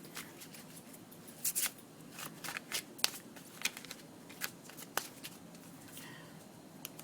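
Oracle advice cards being shuffled by hand, giving a quiet, irregular run of soft riffling, flicking and crackling card sounds alone with no talking.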